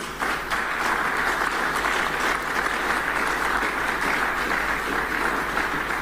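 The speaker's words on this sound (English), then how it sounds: "A round of applause for our panelists today" Audience applause for the panelists at a public forum on mineral royalties monetization, sustained even clapping throughout with no voices over it.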